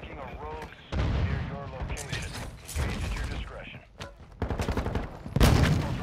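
Gunfire in the video game Warzone 2 comes as repeated bursts of loud, rapid shots and mechanical clatter, with people talking excitedly throughout.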